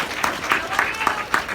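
Audience applause at a live concert, a short burst of dense clapping with crowd noise mixed in, moderately loud and continuous with faint voices beneath.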